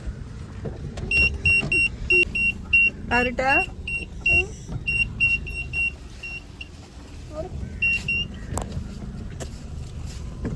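A car with repeated electronic beeping chimes runs under lively talk from several people, and its hum stays steady beneath the voices.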